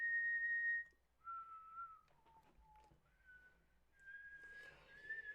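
A person whistles a tune from The Sound of Music, a sequence of clear sustained pitched notes that step down and then rise again, close and fairly quiet with short gaps between phrases and no talking.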